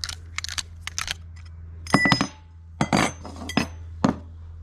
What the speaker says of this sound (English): for a traditional soldered fitting, you'd always ensure that you've got a nice square cut using a pipe slice